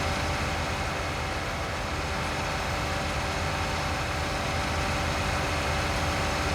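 A US-configuration tractor engine idles in Farming Simulator, producing a steady, dense mechanical drone that stays constant and fairly loud throughout, with no talking.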